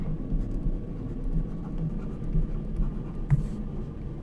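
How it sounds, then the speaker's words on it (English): Handwriting on a drawing surface while sketching a biology diagram, a soft continuous scratching of strokes, faint and close, with no talk. "And I'll write it down."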